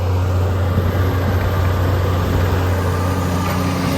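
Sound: tractor working with a cultivator

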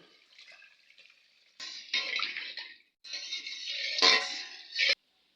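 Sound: water being poured into egg curry gravy

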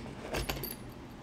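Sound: keys on a keychain jangling

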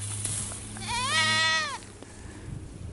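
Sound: goat bleating at a market

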